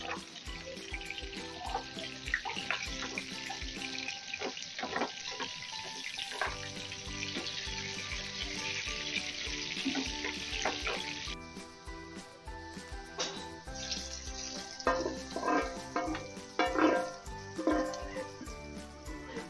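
Hot onion tempering poured into resha haleem sizzles and crackles steadily throughout, with clattering of utensils and background music layered over the frying noise.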